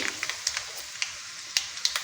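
Quiet sizzling of dried red chillies and seasoning spices frying in hot oil, punctuated by scattered sharp pops and crackles.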